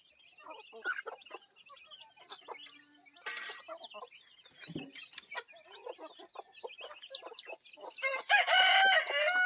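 A rooster crows on a rural farm early in the morning, with clucking fowl and other birds around; the crowing rises loud and close near the end.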